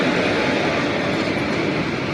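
A passenger train entering Bhavnagar station in Gujarat, wheels rolling on the rails in a steady, loud, continuous rumble close by, with no voices over it.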